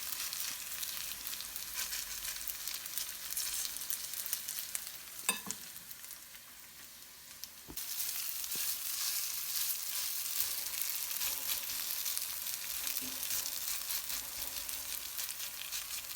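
Potato pancakes frying in oil in a pan give a steady, close crackling sizzle that runs unbroken, with a short dip and a few soft clicks partway through and no voices.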